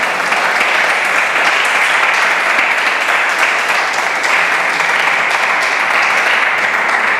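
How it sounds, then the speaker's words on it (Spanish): Dense, steady applause from a church congregation fills the whole stretch, loud and unbroken without talk on top. "¿y cuántos le damos palmas al Señor?"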